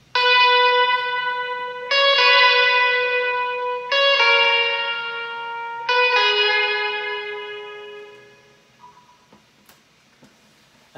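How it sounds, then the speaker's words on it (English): A lead guitar part from a homemade beat plays four bright, effect-laden struck notes about two seconds apart, each ringing and decaying, then fading into near silence with a faint tick. "I'll show you the lead guitar as well."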